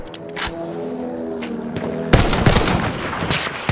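Gunfire from an inaccurate gun in the shooter game Battlefield 1, loud rapid bursts that grow denser and harsher in the second half, over a steady low in-game rumble.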